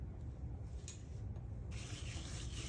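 Hands rub pepper, thyme, rosemary and crushed sage into a thick Florentine steak, a steady close-up dry scraping and rubbing that continues without pause, with no talking.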